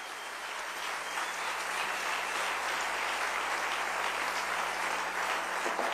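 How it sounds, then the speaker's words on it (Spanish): A church congregation breaks into sustained applause, a dense, even wash of clapping held steady for several seconds, heard from within the room at moderate level. "Denle un aplauso bien fuerte al rey."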